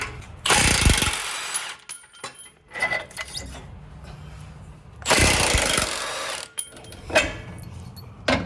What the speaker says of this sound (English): So all we're going to need to do is remove this bolt.